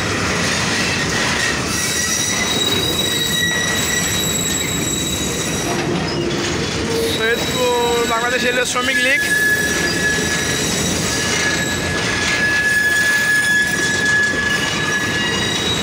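A WDM-3 diesel locomotive, just repaired, pulls out of the Saidpur railway workshop in Bangladesh with a loud, continuous engine rumble and rolling wheel noise, a squeal of wheels midway, and someone speaking nearby.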